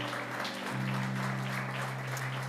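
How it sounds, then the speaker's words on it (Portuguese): A church congregation claps for the Lord, the applause a steady wash over a sustained low organ or keyboard chord that shifts pitch partway through, moderately loud and continuous. "aplauda mais uma vez o Senhor"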